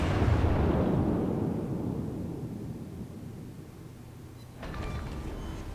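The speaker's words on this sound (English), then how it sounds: "They don't make as quite a big of a explosion or flash when they hit, but they're bringing the pain when they hit." AP shell hits exploding in the World of Warships video game, firing the USS South Carolina: a heavy booming blast that rolls off into a long rumbling decay, followed by a fainter crackling hit near the end.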